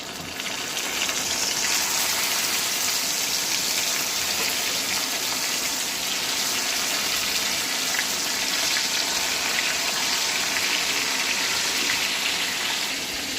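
Pieces of meat being deep fried in oil for a Kurbani Eid dish, a steady dense sizzle and bubbling that runs loud and unbroken throughout with no voices.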